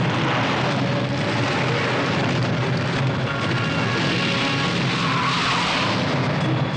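A car skids hard while turning around in a Hindi-dubbed action movie chase, a loud continuous tire screech and roar filling the whole stretch with no talk.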